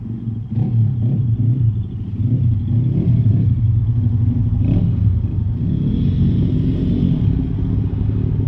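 Motorbike engines rumble and rev in the distance, a continuous loud drone that rises and falls as they pass, with no voices.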